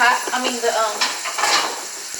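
A metal lid set onto a cooking pot with simmering apple-pie-scented food, giving a few close clanks and scrapes of metal on metal over a soft background hiss.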